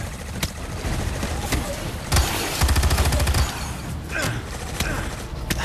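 Gunfire in the PS3 video game Battleship: a dense, continuous run of rapid shots and thuds, with heavier bursts in the middle, set against steady game noise with some voices.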